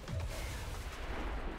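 In the XCOM 2 video game, an explosion lands with a quick boom at the start, followed by a low, rumbling roar that lingers at a fairly quiet level.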